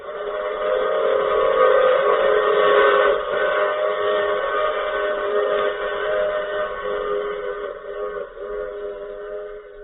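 A steady train whistle sustains for about ten seconds as a radio drama sound effect, with layered harmonic tones over a low rumble that fades slightly toward the end.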